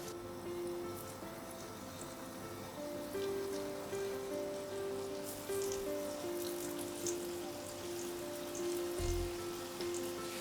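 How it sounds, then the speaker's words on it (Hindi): Potato balls deep-fry in hot oil with a steady, crackling patter like rain, close and moderately quiet, with a faint low hum underneath. "और सीधा जाएगा ये तेल में"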